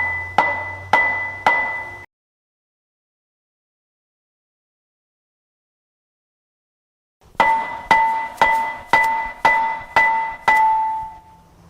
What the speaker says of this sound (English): I have a soft blow hammer. I'm going to go ahead and try to tap it around